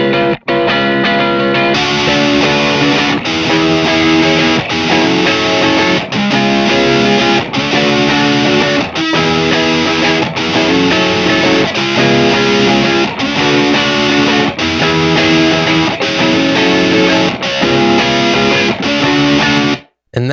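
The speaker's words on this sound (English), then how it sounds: "I'm adding a distortion guitar with the same chords" Distorted electric guitar strumming rock chorus chords, loud and sustained with steady rhythmic chord changes, layered over a full band backing track and cutting off abruptly at the end.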